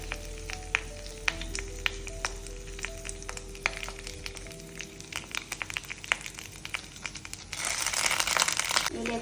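Masala-coated fish laid piece by piece on a leaf in a hot frying pan, sizzling and crackling steadily with scattered pops and leaf crinkles, growing louder and denser near the end.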